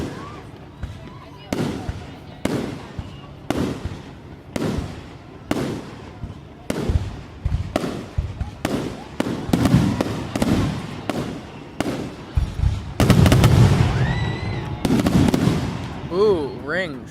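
A Delaware City fireworks show booms in a steady series of sharp bursts with crackles and whistling rising shells, loud and fairly near, while people talk now and then between the blasts.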